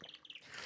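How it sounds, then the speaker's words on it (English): A water bottle gives off a quick series of high, squeaky chirps that sound almost like birdsong, four or five short tweets in a row, then a brief airy hiss, all faint and with no talking. "That is the actual noise of my water bottle."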